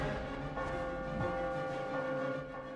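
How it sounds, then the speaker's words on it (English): Bells ringing inside the Spider-Man Friend or Foe video game, a sustained resonant metallic chime with steady tones and a few fresh strikes layered over the ringing, moderately loud and continuous without speech. "Wait, it's all the bells. It's all bells."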